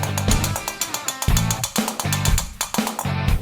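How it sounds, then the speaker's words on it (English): Repeated metal-on-metal hammer strikes as a steel knight's helmet bowl is smoothed over a round-top bolt used as an anvil, fast irregular ringing blows close up with short pauses between bursts. "Now I'm going to use a round top bolt as an anvil to smooth out the hammer marks."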